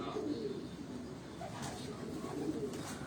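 Low, throaty cooing from rooftop pigeons repeats a few times over steady outdoor ambience, with a voice speaking nearby.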